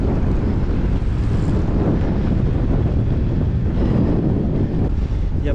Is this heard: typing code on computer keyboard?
no